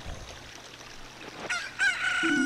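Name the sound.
chicken crowing in video game Zelda Ocarina of Time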